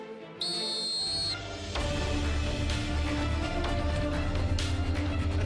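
A sharp, shrill coach's whistle blast lasting about a second opens a high school football training camp. It is followed by a dense, steady wash of other sound, with no speech.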